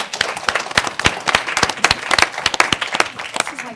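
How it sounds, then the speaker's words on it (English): An audience applauds, dense clapping from many hands, fairly close and steady for a few seconds with no talk over it. "We like applaud after everything."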